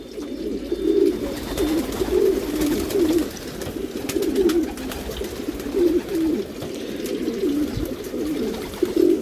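Male racing pigeons in a Mirpur, Dhaka loft keep up a steady, rolling chorus of throaty coos, near and continuous, with light rustling and no voices.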